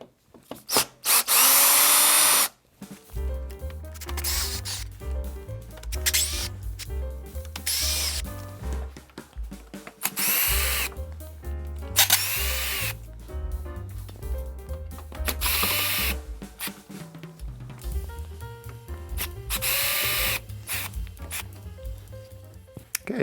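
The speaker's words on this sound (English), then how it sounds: "let's remove the screws." A power drill backs screws out of a recliner seat frame in repeated whirring bursts, some high-pitched revving and others slower under load, loud and close with brief gaps between screws and no talking.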